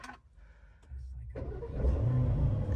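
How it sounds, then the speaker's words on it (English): An Aston Martin DB12 is started after a rebuild, a quiet cabin giving way to a crank and then the engine catching into a loud, rising idle rumble close by. "This is the first drive of the DB12 since we rebuilt it. It's been a long time coming, this. Start."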